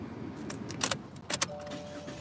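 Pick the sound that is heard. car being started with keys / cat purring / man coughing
car being started with keys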